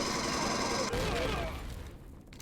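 A turret in the space survival game Empyrion Galactic Survival fires a dense, continuous roaring burst that holds steady and then tapers off toward a quieter tail.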